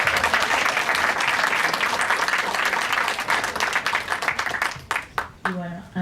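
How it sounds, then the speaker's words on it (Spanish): At the BAFICI 2012 film festival in Buenos Aires, a cinema audience gives loud, continuous applause to welcome a film director. It fades into a few scattered claps, and then a voice begins speaking. "para quien quisiera pedir por favor un fuerte aplauso."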